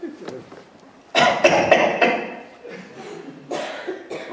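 A voice imitates someone coughing far off behind a film set, a few rough, bursty coughs with short gaps, moderately loud and standing alone.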